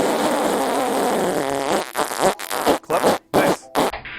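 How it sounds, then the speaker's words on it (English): Fart noise called the Wet Willy, played from an iPhone app: a long, wet, rumbling blast breaking into a series of sputtering bursts with brief gaps, loud and close. "I make fart noises on the phone."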